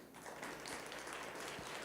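Audience applause at an AI health innovation pop-up event, a steady, fairly faint wash of many hands clapping that carries on for the whole moment.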